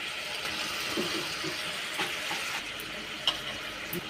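Fried chicken pieces sizzle steadily in a pan for chilli chicken, with a constant close crackle and a few light stirring scrapes and clicks throughout.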